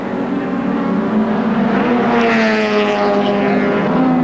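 Racing cars at speed on the Amaroo Park circuit during a 1982 AMSCAR round, a loud steady engine roar with a passing car's rising and falling whine, continuous throughout with no talk.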